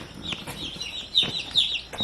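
Baby chicks kept in a large storage-tote brooder give repeated high, thin peeps and chirps, close by and fairly soft, with no talking.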